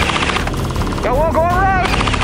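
An airsoft gun fires a short controlled burst during an outdoor airsoft game, a quick loud rattle of rapid shots with a whining mechanical tone in the middle, no voices.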